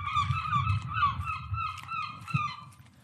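Gulls cry out in repeated squawking calls, fairly close, over a low rumbling background.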